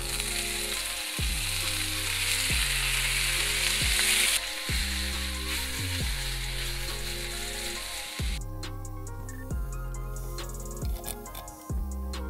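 Steady, loud sizzling of shrimp frying in a hot pan, continuous throughout, with a soft rhythmic beat underneath.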